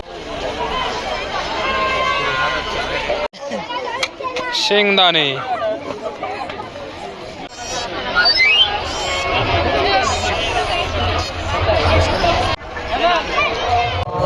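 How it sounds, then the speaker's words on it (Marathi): Large evening crowd at Agasti temple in Akole on Mahashivratri, a dense, continuous babble of many voices with chatter and movement close around, nearby talk running over it throughout. "खूपच जास्त अशी गर्दी आहे आणि संध्याकाळचे आठ वाजलेले आहे तुम्हाला गर्दी दाखवतो"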